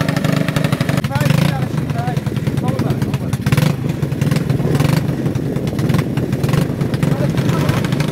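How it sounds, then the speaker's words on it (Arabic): A Honda motor engine drives a plant-shredding machine, roaring loud and steady throughout with constant clattering, while someone talks over the din. "تطورنا الآلة، انه عبارة عن محرك موتور هوندا"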